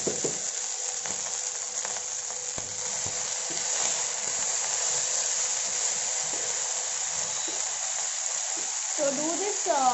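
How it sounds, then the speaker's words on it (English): Cooked rice stirred little by little into vegetables in a pan for paneer pulao, a soft steady sizzle with scraping stir strokes, ending in a few clinks and a short burst of running water. "I'm going to add the rice little by little to the vegetables and mix it"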